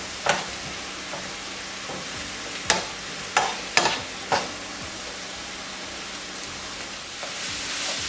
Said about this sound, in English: Mix the sugar in with the onions and allow it to cook down.